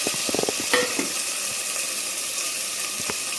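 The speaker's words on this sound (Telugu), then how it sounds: "కొద్దిగా పచ్చివాసన పోయేంత వరకు బాగా ఫ్రై చేద్దాము కట్ చేసి పెట్టిన క్యారెట్ మిర్చి" Chopped carrot and green chilli fry in a pan, a steady close sizzle with a few clinks and scraping stirs near the start, and no voices.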